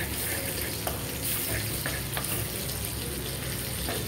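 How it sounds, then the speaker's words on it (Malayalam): Three or four green chillies crackle and sizzle in hot oil with chopped tomato, a dense, steady frying hiss close up, with faint scraping throughout. "ഒരു മൂന്നാല് പച്ചമുളക് ഇട്ടു കൊടുക്കുന്നു"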